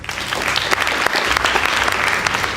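Loud, sustained applause from an audience at a national knockout school debate between two girls' high schools, many hands clapping densely and evenly throughout with no speech over it.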